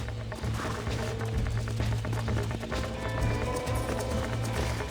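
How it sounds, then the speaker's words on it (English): Galloping horse hooves in Red Dead Redemption on PS5, a fast, continuous clip-clop rhythm pounding close and loud throughout with a low rumble underneath. "You get back on your own horse."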